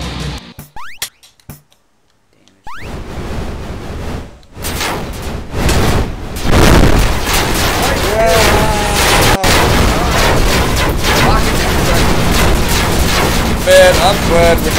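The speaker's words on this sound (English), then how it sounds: "This thing has like rocket launchers. It works." A rocket launcher fires in a chaotic zombie party video game, with loud booming blasts and dense explosive noise that builds after a brief quiet gap and continues under excited voices.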